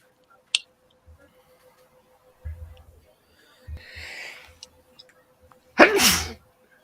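A sharp sneeze bursts out near the end, preceded by a few soft clicks, thumps and a brief breathy sound in an otherwise quiet room.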